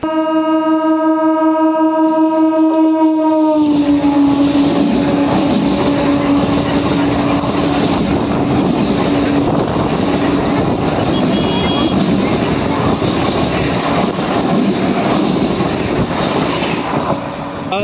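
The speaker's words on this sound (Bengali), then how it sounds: "সেই ব্রিজের ওপর দিয়ে ট্রেন ছুটে চলেছে হাওড়ার উদ্দেশ্যে" A train bound for Howrah sounds a long, loud horn, then thunders across the bridge over the Dwarakeswar river with a close, heavy rumble and clatter that lasts for many seconds.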